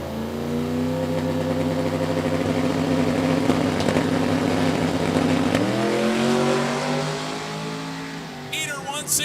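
A 1981 Fairmont wagon with a 6-cylinder engine and a rear parachute drag races at Orlando Speed World, its engine roaring loudly and steadily before the pitch drops as it lets off and fades.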